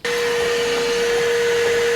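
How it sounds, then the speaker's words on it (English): A vacuum cleaner running steadily close by while cleaning a Foxbody Mustang sunroof, a loud constant whine with a fixed pitch, heard alone with no voices. "All right, we'll do one last vacuum."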